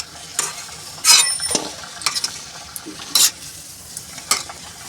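Bhajiya fritters for green undhiyu frying in hot oil, a continuous sizzle broken by sharp stirring and scraping bursts of a utensil against the pan, close and fairly loud.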